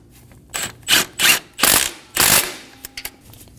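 A ratchet tightens the nut on the bottom of a serpentine belt tensioner on a 2008-2015 Scion xB 2.4L, giving five loud, close rasping clicks in a steady rhythm, then a few faint taps.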